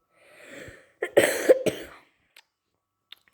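A short exhale followed by a couple of harsh, close coughs, then quiet with faint small noises.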